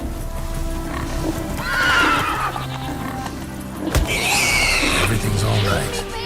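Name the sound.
horse Roach neighing in The Witcher 3 video game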